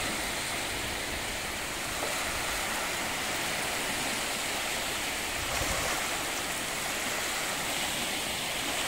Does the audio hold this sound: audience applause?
no